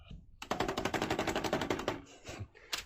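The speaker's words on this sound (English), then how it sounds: "that sounds like gunshots." Rapid automatic gunfire from a sci-fi shooter game, Star Trek Online, rattling in a dense burst of shots for about a second and a half before breaking off into scattered single reports.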